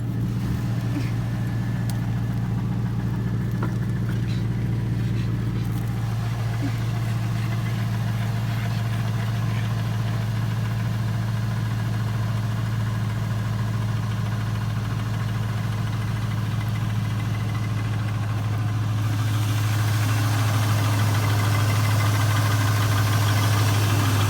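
A Chevrolet Tahoe engine in a new build settles into a loud, steady idle, a continuous low rumble with a slight shift in tone near the end.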